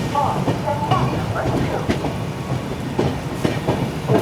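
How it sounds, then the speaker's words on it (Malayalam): Heavy rain pours steadily at a railway station where a Central Railway MEMU, the Chiplun–Diva special, stands, with loud broadband hiss and scattered clatter throughout. "മഴ ശരിക്ക് ശക്തി പിടിച്ചു"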